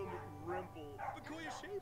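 A dog from The Sims 4 gives several short yips and barks over a steady game background, while a person speaks over the sounds.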